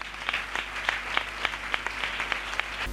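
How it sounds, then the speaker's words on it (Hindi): A church congregation claps in unison for praise, crisp regular beats about three per second, moderately loud, with a low steady hum beneath. "एक बार ताली बजा के खुदा की महिमा करें।"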